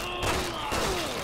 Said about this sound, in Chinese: 他开枪了